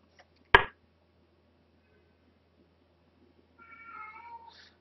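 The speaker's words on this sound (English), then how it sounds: "My cat is meowing." A pet cat meows indoors during a quiet chess game: one sharp, loud meow near the start, then a longer, softer drawn-out meow toward the end, with near silence between.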